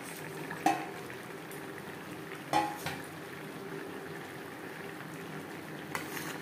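A fish curry with vegetables simmers quietly in a pot, a low steady bubbling with a few sharp utensil knocks against the pan, faint and close, with no voices.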